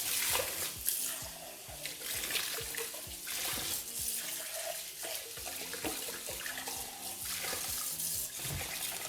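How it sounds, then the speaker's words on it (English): Rice for a beans-and-rice meal gets a quick rinse, with water splashing and swishing continuously alongside soft knocks and grain rustle, fairly quiet and close with no talking. "for the rice. I'm just gonna give it a quick rinse"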